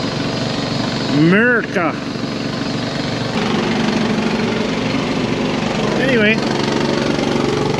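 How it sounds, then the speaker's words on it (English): A big supercharged Detroit diesel engine runs at a steady, loud drone nearby, with a person speaking briefly over it. "This thing's got that big Detroit with the supercharger in it."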